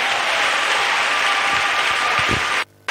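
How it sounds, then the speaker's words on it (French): Loud, sustained applause from a church congregation fills the space evenly, a dense wash of clapping that runs steadily before cutting off abruptly near the end. "Acclamez."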